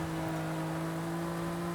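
A BMW M4 is driven in the video game Forza Horizon 5, its engine holding a steady, droning tone with a constant whir and no clear revving changes throughout.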